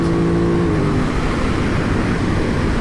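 A 2021 Aprilia RS660 sport motorcycle engine roars steadily close by while accelerating, a rising note fading into broad mechanical rumble and wind noise, with no talking.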